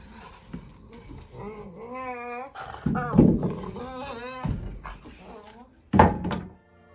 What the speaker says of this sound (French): Wally le Braque de Weimar, qui avait pour passion de faire passer la planche de bois par la porte